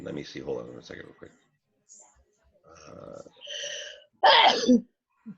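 A single sharp sneeze bursts out near the end during a video-call property tour, following a few moments of a person talking.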